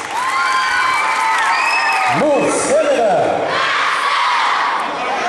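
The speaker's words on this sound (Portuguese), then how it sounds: "Uma salva de palmas para os pais" Crowd at a PROERD graduation ceremony in Coração de Jesus applauding and cheering for the parents, with dense clapping, scattered whoops and children's shouts, and an amplified voice speaking over the noise.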